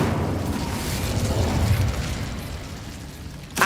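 An Incendio fire spell is cast in Hogwarts Legacy, a loud roaring burst of flame that swells and fades over a few seconds, ending with a sharp crackling pop.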